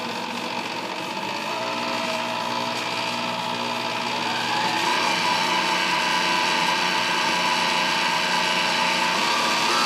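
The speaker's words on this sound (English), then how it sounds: "So the mixer's a little loud, sorry." A stand mixer blending pink and white chocolate chip cookie dough whirs and rattles continuously, a steady mechanical grinding drone that grows slightly louder partway through, with no talking.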